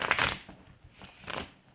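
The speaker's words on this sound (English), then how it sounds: "I want to shuffle once more." Tarot cards shuffled by hand in two quick riffling bursts, close and crisp, separated by a brief softer pause.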